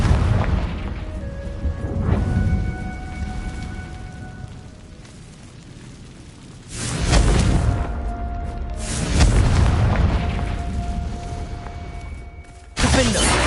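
A Confringo blasting spell explodes in the Hogwarts Legacy video game, a series of loud booming bursts with a heavy blast near the middle and another near the end, set against game music and effects.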